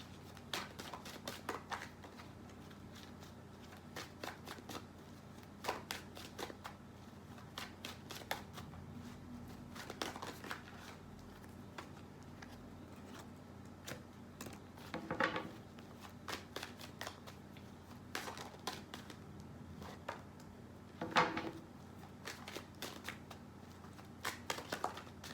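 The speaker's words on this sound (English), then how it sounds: "I got a few cards for you guys." Tarot cards shuffled continuously, with repeated soft riffling and flicking at close range over a quiet room tone, no talking.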